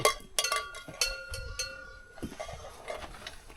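Carved wooden buffalo bell in a Lao countryside village, several hollow clonks at irregular intervals, some close and sharp, others softer, with quiet surroundings between them.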